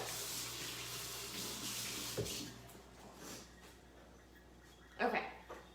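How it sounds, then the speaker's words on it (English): A kitchen tap runs steadily as hands get a quick rinse, faint and continuous, with a couple of brief clunks near the end. "Rinse my hands real quick"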